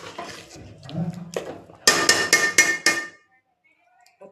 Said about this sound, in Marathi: चांगलं मिक्स करून घ्यायचं